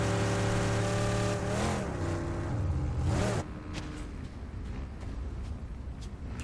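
A motorcycle engine in the battle royale game Fractured Lands, revving loudly with rising and falling pitch for about three seconds, then dropping to a quieter idle rumble.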